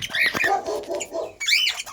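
Pet birds calling in a room with pale-headed birds and a red pastel bird among them: repeated high squawks and chirps in two bursts, fairly close and loud.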